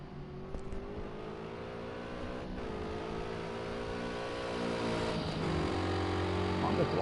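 An LMP3 prototype race car at Fuji runs hard on the throttle, its engine drone holding steady with a brief dip in revs around the middle before pulling on, loud and continuous over faint commentary.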